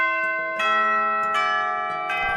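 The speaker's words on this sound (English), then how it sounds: "And with the bell tolled, the day begins to in earnest." A school bell tolls in a few resonant strikes, each ringing out with long sustained overtones that overlap and decay, loud and close with no voices.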